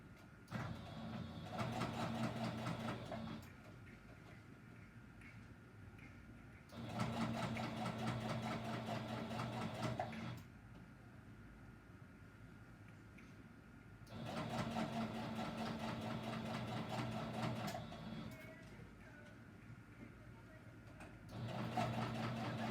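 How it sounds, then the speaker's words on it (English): A sewing machine runs in repeated bursts of steady whirring while joining quilt layers, alternating with quieter stretches where someone talks over the low hum, fairly faint overall. "I'm sewing at an angle"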